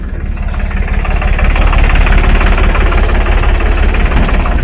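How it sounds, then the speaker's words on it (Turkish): A tractor's heavy diesel engine runs steadily, a loud low rumbling chug with constant rhythmic knocking throughout, close by. "Şimdi traktörden gideceğiz."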